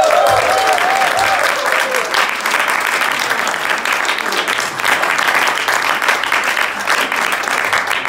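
At a live studio show, an audience breaks into loud, sustained applause that carries steadily throughout, with some cheering voices mixed into the dense clapping.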